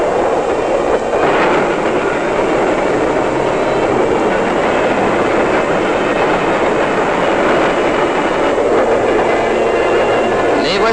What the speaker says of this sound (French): Un train arrive à leur hauteur.